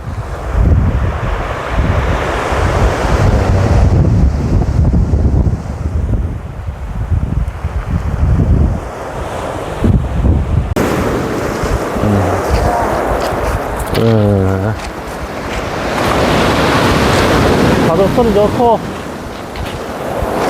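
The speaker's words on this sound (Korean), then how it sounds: "아, 파도 소리 시원하게 좋다." Surf washes in and out on a windy beach at Baekseok-ri, Yeongdeok, South Korea, heavy buffeting on the microphone, with a voice speaking now and then over it.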